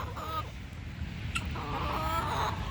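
Pet chickens cluck and murmur close by in a few short bursts over a steady outdoor background, with a brief sharper call in the middle and no speech.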